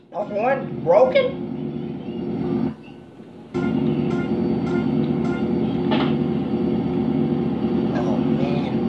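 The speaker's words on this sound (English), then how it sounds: "Can the train run any faster?" A train rumbles along in the GTA San Andreas game, a steady low mechanical drone with a brief drop in the middle, while voices talk over it and clanking rail ticks recur.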